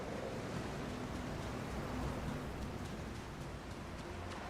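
Ocean surf washes steadily along a rocky shore of basalt columns in the video game The Alters, a continuous roar with wind mixed in, fairly loud and unbroken.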